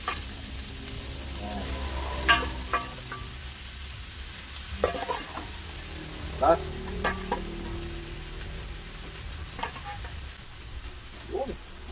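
A spoon or spatula stirs paklay, a Filipino offal stew, in a frying pan, with steady sizzling and intermittent scraping clinks against the pan, close and moderately loud.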